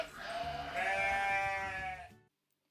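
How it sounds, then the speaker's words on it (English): A sheep on a farm gives one sustained, wavering bleat lasting about two seconds, close and fairly loud, then stops abruptly into near silence. "a sheep."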